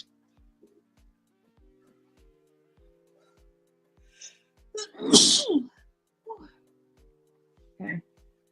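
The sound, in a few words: sneeze caused by powdered sugar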